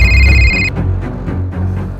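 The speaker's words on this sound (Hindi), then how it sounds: "विक्रम सिंह का फोन बजता है।" A telephone rings with a bright electronic trill that stops abruptly partway through, followed by low, quieter room sounds and faint shifting noise afterward.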